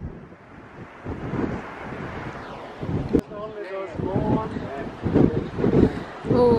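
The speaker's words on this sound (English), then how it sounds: "Oh, it's windy up here." Gusty wind buffets the microphone high on a coastal headland above Porthmeor Beach at St Ives, Cornwall, a steady rushing roar with stronger gusts, while someone speaks briefly over it.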